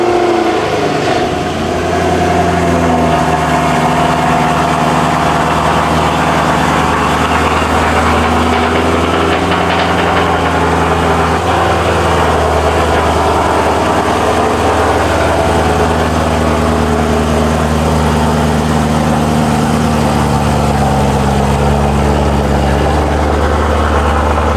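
A BMW E92 M3 with its V8 engine idling at close range, a steady deep rumble with a low, even drone that stays loud and unbroken for the whole stretch, without voices.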